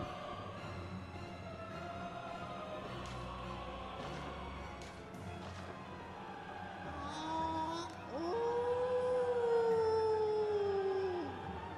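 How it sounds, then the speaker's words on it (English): Micolash, Host of the Nightmare in the Bloodborne video game, lets out a rising, wavering howl that swells loudly near the end, over ongoing game music and ambient noise. "He's referencing the DLC when he howls like that."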